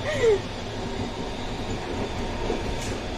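An empty passenger train rolling along the rails near Ooty, giving a continuous low rumble from inside the carriage with a short metallic squeal at the start.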